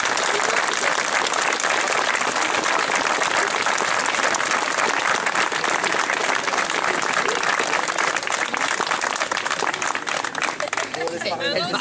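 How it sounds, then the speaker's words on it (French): A crowd at an outdoor liberation anniversary ceremony applauds the local youth, with loud, continuous clapping from many hands throughout and some chatter and a voice surfacing toward the end. "vous pouvez les applaudir parce que vous pouvez être fiers de votre jeunesse"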